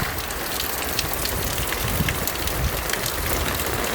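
Rain falls steadily and is caught in a pot that has filled with rainwater, giving a loud, continuous patter and splash close by with no talking.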